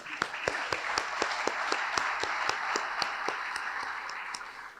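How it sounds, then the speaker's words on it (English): Audience applause fills a lacrosse awards breakfast, steady and dense with sharp individual claps standing out, holding at an even level for several seconds with no talking. "our sports information guy deserves a round of applause, Greg Gornick, okay?"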